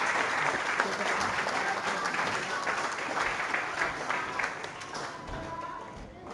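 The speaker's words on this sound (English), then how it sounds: "Please give this class a round of applause." An award presentation audience applauds a class with sustained, dense clapping that fills the room at steady loudness. Faint voices murmur underneath, and the applause thins slightly toward the end.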